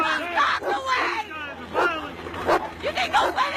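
Attack dogs bark in loud, repeated bursts at a crowd of protesters, with raised voices and shouting mixed in close by.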